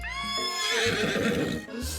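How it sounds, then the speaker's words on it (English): A horse in the I Love You Colonel Sanders video game gives a loud, close whinny as it rears up, a rising and falling neigh over a low rumbling bed, with a thud near the end. "your sudden movement surprised the horse and it rears up, kicking you directly in the face"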